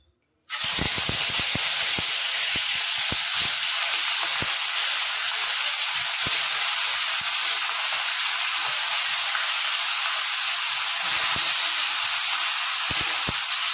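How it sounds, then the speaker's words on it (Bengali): Rohu fish pieces drop into hot oil in a wok and set off a sudden loud sizzle that holds steady, with scattered crackles and pops throughout. "গরম হয়ে গেছে, এবার আমি মাছগুলো ভেজে নেব।"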